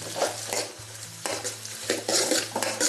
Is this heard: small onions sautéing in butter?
yes